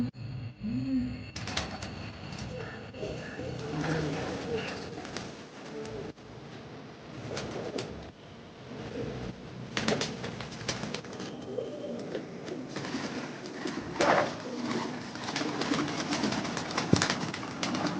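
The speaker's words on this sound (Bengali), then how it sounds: "এখানে কিন্তু সব গিরিবাস পায়রা আছে, কিছু ম্যাট্রাস পায়রা আছে" Giribaz and Matras pigeons coo in a loft, soft repeated throaty calls rising and falling over a busy background of wing flutters and shuffling, near and continuous.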